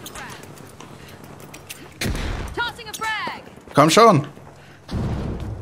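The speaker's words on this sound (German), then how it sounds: "da muss eine Granate rein" Grenade blasts in the shooter The Finals, several heavy booms and bursts of gunfire erupting during the fight, with someone speaking German in between.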